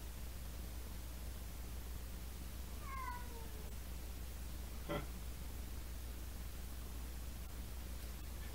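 A cat gives a clear meow, then a brief, buzzy chirp a couple of seconds later, over a constant low electrical hum.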